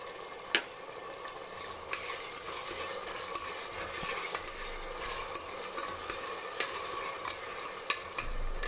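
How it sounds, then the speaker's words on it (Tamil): Tomatoes sauté with ginger garlic paste in a pan for spicy South Indian thala kari, a continuous close sizzle with regular light clicks and scrapes of a stirring spoon. "போட்டு இந்த மாதிரி ஒரு வதக்கிட்டே இல்லை இஞ்சி பூண்டு பேஸ்ட் சேர்த்திடலாம்"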